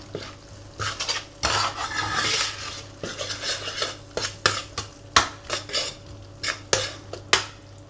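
Paella ingredients, including pimenton, cook in a pan while a utensil stirs and scrapes them. Metallic scrapes, clinks and soft sizzling repeat close up in an irregular rhythm, ending in a series of sharp taps.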